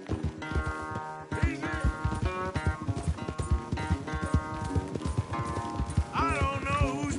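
Horses gallop hard in a race in Red Dead Redemption 2, their rapid hoofbeats thudding in a steady drumming rhythm under swelling orchestral game music, with a brief whinny-like flourish near the end.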